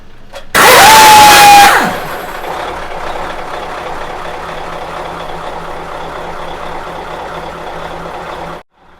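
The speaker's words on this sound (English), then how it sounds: "the engine has an air start mechanism, making the act of turning the keys in the ignition much noisier compared to modern day Macks" An older Mack E9 truck engine fires up on its air start: a sudden loud hissing blast with a sharp whistle lasting about a second, then settling into a steady idle rumble that carries on before cutting off.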